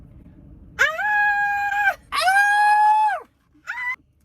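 A dog howls excitedly in three loud, close, tonal bursts: two long rising wails and a short final one, with brief silent gaps between them.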